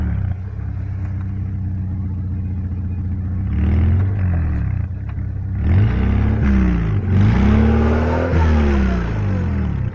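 A UAZ Hunter off-road vehicle on a trial course revs its engine hard at full throttle, loud and close, with repeated rising and falling surges over a steady rumbling idle.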